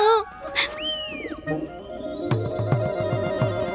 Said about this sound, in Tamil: என்ன இன்னொரு புறா வந்திருக்கு?